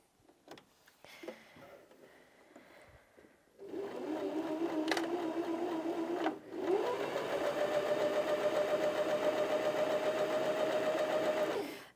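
A Janome HD2200 sewing machine stitches a wide zigzag, running in a few short bursts before settling into a steady, loud mechanical whir with a rising motor whine, then stopping abruptly.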